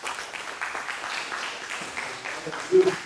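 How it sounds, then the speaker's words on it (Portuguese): Church congregation applauding Jesus during a sermon: a steady, moderate wash of clapping throughout, with voices and a brief louder burst near the end. "Vamos aplaudir o Senhor Jesus."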